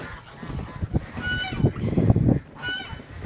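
Domestic ducks kept on a homestead call loudly near the microphone, a run of harsh, honking quacks in quick succession with a short pause before another call, with no talking over them.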